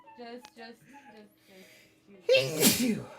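A single loud, close sneeze bursts out near the end, after a few softly spoken words.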